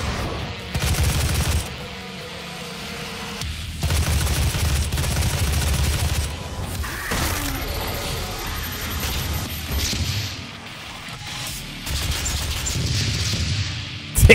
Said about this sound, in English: Those rockets are sick.